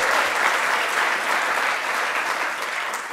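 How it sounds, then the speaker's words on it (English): A lecture audience applauds the Irish football team, producing a dense, steady wash of clapping that holds at an even loudness for the whole stretch, with no voices standing out. "let's give the football team a round of applause"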